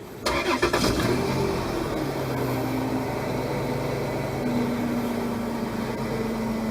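A 2006 Chrysler Pacifica engine cranks and starts with a brief whirring crank, then settles into a steady idle whose pitch drifts slightly. It is moderately quiet and heard alone.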